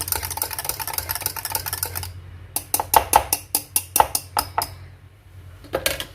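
Spoon clinking and scraping against a bowl while stirring an aloe vera shampoo mixture: a steady scraping at first, then a run of sharp, close, rhythmic clinks, a pause, and a final few taps.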